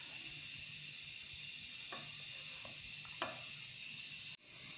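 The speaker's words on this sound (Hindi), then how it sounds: "मुसलसल चम्मच चला रहे हैं, बस थोड़ी देर के बाद तैयार हो जाएगा" Milk reducing into khoya, about one and a half litres cooked down in a pan, gives a steady low sizzle and bubble with a few faint spoon scrapes and one sharper clink near the end; no voices.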